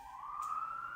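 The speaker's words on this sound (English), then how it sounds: "now I'm distracted because the fucking siren's in the background" A siren wails on a New York street, one faint distant tone sweeping slowly upward across the moment, heard alone without voices.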